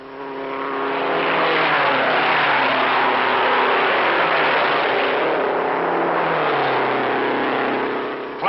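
1956 race cars roaring around an oval, the Novi Special engine prominent as the pack surges past, a loud, sustained, slightly muffled engine roar that swells and holds for several seconds before fading.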